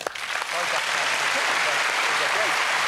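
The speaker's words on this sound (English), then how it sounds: "I think a round of applause for both" A crowd claps in a dense, steady wash of applause that swells after a brief start and holds, with faint voices underneath.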